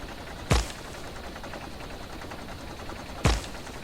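Gunfire in the Factorio video game: two sharp, loud shots spaced about three seconds apart, rising over a steady low crackling background, with no voices.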